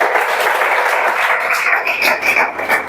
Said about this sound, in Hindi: तो ताली बजाओ एक बार बबली बार